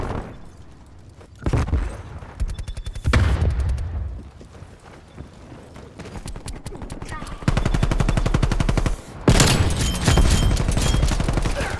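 Rapid bursts of video game gunfire, automatic weapons fire mixed with single shots from a multiplayer shooter with a sentry turret in play. The bursts come loud and close in clusters, growing denser toward the end, with voices speaking in places.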